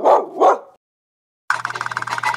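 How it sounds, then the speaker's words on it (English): A cartoon dog in a farm video game barks twice in quick succession, close and clear, followed after a pause by a bright, bouncy game jingle. "My dog says woof woof all day long."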